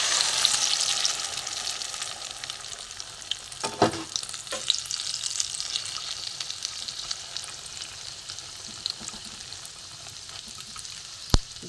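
A spice mixture for egg curry fries in hot oil in a pan, a steady bright hiss and crackle heard up close, with a few scrapes of stirring and a sharp clink near the end, with no talk.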